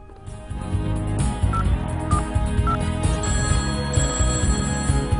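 A telephone rings during a live TV call-in show, sounding three short, evenly spaced electronic ring tones over a busy background of studio music.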